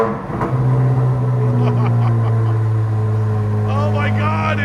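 A Chevrolet C8 Corvette Z06 engine cranks and fires up loudly from a cold start, settling into a deep, strong idle while a person talks over it.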